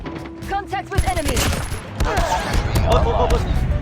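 Rapid machine gun fire rattles through a Call of Duty Mobile match in loud, dense bursts with some sharper single cracks, while someone talks over the shooting.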